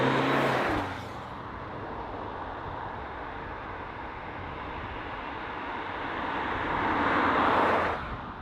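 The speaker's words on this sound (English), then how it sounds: "We're driving the PureTech 180 model of engine." Steady cabin drone of a Peugeot 508 SW estate driving with its PureTech 180 petrol engine, a broad even road and engine hum that swells slightly toward the end before easing off, with no talking.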